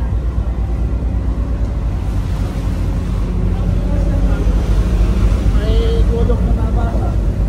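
Rough monsoon-season sea buffets a vessel crossing from Liloan to Lipata, Surigao, with a loud constant rumble of engine, wind and waves pounding the hull, while voices are heard over it.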